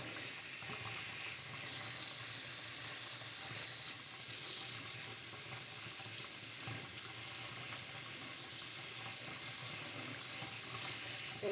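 Soapy makeup brushes rinsed under a running faucet, an even rushing stream of water splashing into a sink with small shifts as the bristles are squeezed, steady and close throughout.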